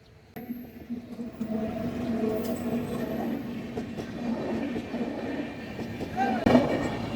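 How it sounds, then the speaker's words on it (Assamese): A train rumbles steadily past an unguarded railway crossing at Bonda, with a short shrill whistle near the start and a busy crowd murmuring around the tracks. "ইতিমধ্যে আমি আপোনালোকে শুনিছেই ৰেলৰ উকি, ট্ৰেইন আহিছে"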